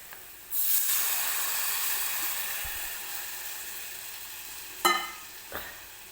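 Yogurt poured into a hot onion tempering for kadhi, a sudden burst of hissing sizzle that settles into a steady fizz, followed by two sharp utensil clanks.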